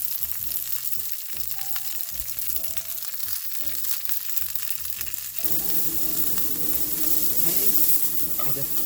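Chicken wings sizzle in an air fryer with a continuous loud crackle, with some clinking and shifting early on, close by and without talk.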